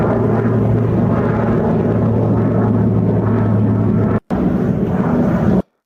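F-18 fighter jets fly over Puerto Rico with a loud, steady, rumbling roar that holds for several seconds, breaks off for a split second, and then cuts out.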